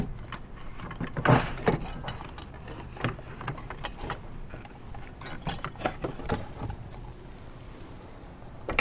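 Metallic clanks, rattles and scraping as a turbocharger is twisted and worked loose out of a 6.0L Powerstroke engine, close and irregular with a few louder knocks.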